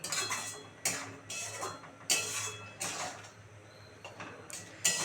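A metal pan of egg kasundi is handled and covered, sharp clinks and scrapes of metal on metal recurring every second or so over a low hum, close and moderately quiet.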